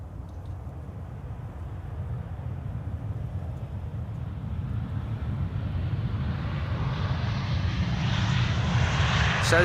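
A Saudia Boeing Dreamliner on approach to Amsterdam Schiphol Airport, its jet engines a steady distant roar that slowly swells louder as it nears, with no one speaking.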